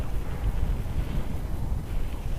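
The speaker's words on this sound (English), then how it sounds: "this bit might be a bit more enjoyable if the wind was going a different direction, or even if there was no wind at all" Strong wind buffeting a microphone during a mountain bike descent at Glenlivet, a steady, loud low roar and rumble that fills the whole clip without letting up.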